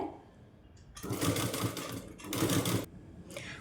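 A sewing machine stitches a saree petticoat in two bursts of rapid mechanical whirring, loud and close, separated by short pauses.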